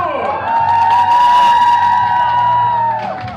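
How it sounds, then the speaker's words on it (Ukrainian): Wedding guests at a Ukrainian wedding cheer and whoop loudly during the first dance, a sustained crowd roar with music underneath, swelling and then fading over a few seconds. "Давайте більше овацій,"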